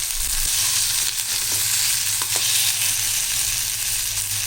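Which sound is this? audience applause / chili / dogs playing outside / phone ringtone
chili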